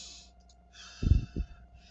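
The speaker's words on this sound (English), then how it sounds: "Can you feel the air blowing out of your mouth?" A deep breath blown out through the mouth, a brief close puff of air in two quick bursts against quiet background hum, with no talking over it.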